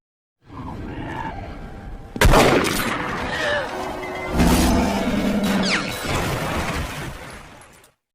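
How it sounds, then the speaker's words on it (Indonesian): Cinematic gunfire cracks out in a sharp blast followed by further shots and crashes, loud and dramatic, amid a swelling soundtrack and hurried movement. "Mendengar suara tembakan, John berlari hendak menyelamatkan istrinya"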